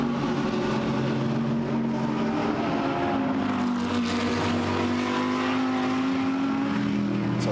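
GT race cars including a Lamborghini and a Mercedes at Monza during a sunny free practice session, engines droning loudly and continuously with a steady pitch that rises and falls as the cars pass.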